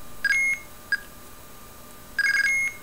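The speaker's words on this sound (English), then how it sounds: "Then you would send a guard tone to start your ANI sequence." Blue box guard tone and ANI tone sequence for IMTS mobile telephone: a loud steady tone burst, a short blip, then a quick run of stepped tones, clean with no voices.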